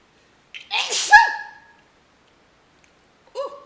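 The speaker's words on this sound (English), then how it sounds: "I got to sneeze." A single sharp human sneeze with a quick intake before it, followed after a pause by a short vocal sound.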